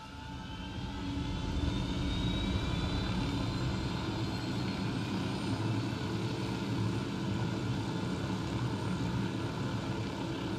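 Aircraft in the video game Wild Lands flies overhead with a steady, fairly loud engine drone and faint rising whine, building over the first second and then holding constant, with no talk.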